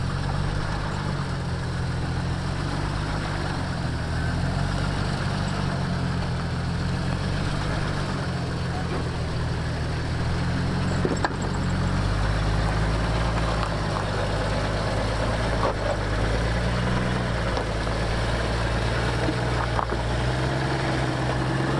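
A Jeep with an Atlas four-speed transfer case in a 10.34:1 crawl ratio, lockers off, creeps up a stair climb barely off idle: a low, steady engine drone with slight throttle swells, continuous and moderately close, no talking.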